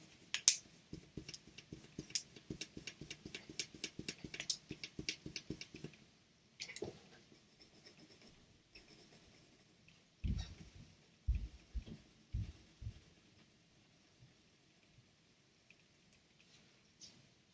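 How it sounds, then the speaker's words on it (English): A pencil scratches as it colors a drawing of a present on paper, with quick dense strokes early on, then a pause and scattered softer strokes and taps, close and quiet. "I might use my pencil but press a little bit lighter and make the top of my bow a little bit lighter"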